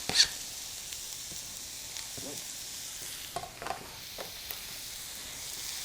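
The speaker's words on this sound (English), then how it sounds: "we're going to put the onions and garlic in there" Onions and garlic hiss softly in a little olive oil in a pan, a quiet steady sizzle with a few light clinks of stirring.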